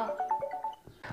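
A phone rings for an incoming call with a short, bright, repeating melodic ringtone heard close and alone.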